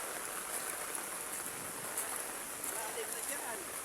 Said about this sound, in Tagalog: Maulan po.